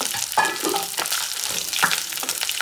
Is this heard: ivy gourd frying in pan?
yes